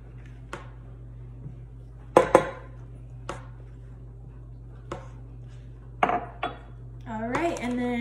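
Batter being mixed in a bowl for a homemade carrot cake, with grated carrot added: sparse scattered clinks and knocks of utensil against the bowl, a couple of louder clatters, and a burst of scraping stirring near the end.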